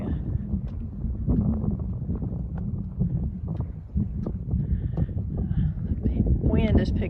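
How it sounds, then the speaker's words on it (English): Wind gusting outdoors at Black Sand Basin in Yellowstone National Park, buffeting an unshielded microphone as a steady low rumble that continues under a person talking throughout. "Wind is picking up"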